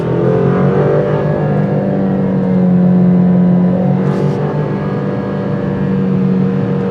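Alfa Romeo Giulia engine revving hard and holding high revs, a loud continuous sustained roar close by, with no one talking over it.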